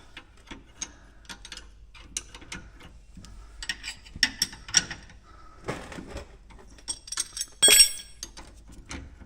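A wrench works a bolt loose on a Polaris Trail Rider 570 in a quiet garage. It gives sparse metallic clinks and ratcheting clicks, with a sharper cluster of clanks near the end.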